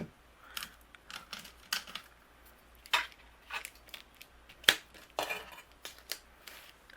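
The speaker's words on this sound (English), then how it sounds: "I will die cut this out" A Christmas card greeting being die cut, heard as a series of sharp clicks, taps and crisp handling noises in irregular bursts, fairly close and with no voices.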